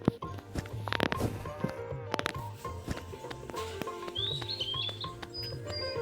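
Parrot Mithu in the Meena video game gives a few short, high whistled chirps near the end, mixed with game music and other in-game sounds.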